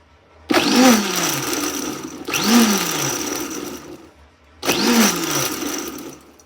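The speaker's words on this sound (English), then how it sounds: "Now we're going to pulse, so we're mixing the ginger and that passion fruit together." Blender pulsing a mix of ginger and passion fruit in three separate bursts, each starting with a loud whine that quickly drops to a steady churning grind before stopping, close up with short quiet gaps between pulses.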